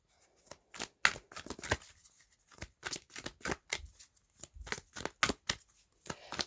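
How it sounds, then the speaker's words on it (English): A deck of tarot cards is shuffled by hand, a quick series of crisp riffling bursts and slaps, close and clear, with short pauses between handfuls. "I'm going to kind of like shuffle this into the deck."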